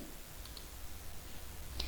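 A computer mouse clicking during spreadsheet work: a few faint, sharp clicks, two close together early and one more near the end, over quiet room hiss.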